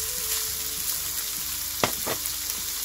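Onions frying in a pan alongside salsiccia sausage balls, a steady close sizzle with a couple of sharper crackling bursts near the end.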